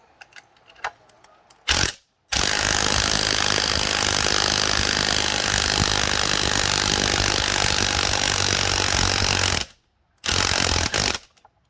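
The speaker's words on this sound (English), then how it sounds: "all you do is use your power tool right here" A loud power tool roars steadily for several seconds while removing a wheel on a 2020 CFMoto CForce 600 ATV, starting and stopping abruptly with brief pauses at each end, close by with no talking.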